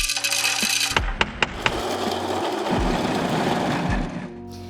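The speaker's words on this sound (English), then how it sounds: "We're gonna grind our 30 grams of coffee using a burr grinder." A burr grinder grinds 30 grams of coffee beans at a medium-coarse setting, a close, loud mechanical whir with crunchy crackling and a few sharp clicks near the start, fading toward the end.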